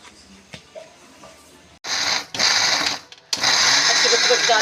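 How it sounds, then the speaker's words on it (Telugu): A kitchen mixer grinder grinds red chillies for pickle in three loud, close whirring bursts separated by short pauses, following a quiet stretch of faint kitchen sounds. "ఇప్పుడు మిక్సీ పెట్టుకుందామండి."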